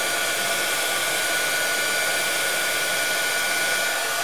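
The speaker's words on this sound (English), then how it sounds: "I don't think you want to listen to my dryer there, my heat tool, I mean" A heat tool drying paint on a craft background with the Oxi Magic technique, a steady loud hair-dryer-like whoosh of blowing air that runs unchanged throughout with no talk.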